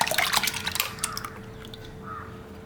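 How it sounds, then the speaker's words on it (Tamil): Buttermilk soured with vinegar is poured into eggless red velvet cupcake batter, a close, wet splashing trickle at the start that tapers off into a few soft drips, with no voices. "இப்போ நான் ரெடி பண்ணி வச்சிருக்கிறேன் இந்த butter milk ball with vinegar இதை நான் இதோட ஆட் பண்ணிக்கிறேன்"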